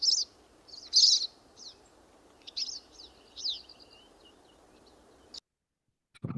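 Siskin flight calls, a handful of clear, separate high chirps spaced irregularly over a few seconds against quiet hiss, ending in sudden silence and a short low thump.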